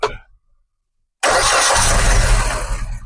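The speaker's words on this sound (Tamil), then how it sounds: "ஓகே இன்ஜின் ஸ்டார்ட் பண்ணியாச்சு" After a short noise and a second of silence, a Maruti Ignis engine abruptly starts and settles into a loud, steady running roar close by.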